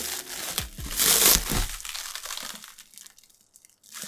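A large cardboard parcel box is unwrapped up close, giving bursts of crinkling and tearing packaging, loudest in one sharp rustle early on, then fading to lighter scattered rustles.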